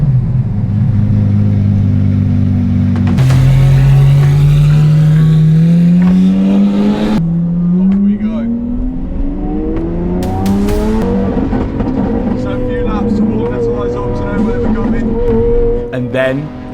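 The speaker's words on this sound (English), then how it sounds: "That car sounds mental. Look, it's only going down the pit lane and you can still hear it." A rebuilt, previously wrecked Lamborghini SVJ engine revs hard on the Imola track, climbing through rising pitch sweeps with sharp gear-change breaks, loud and close throughout, with people talking over it.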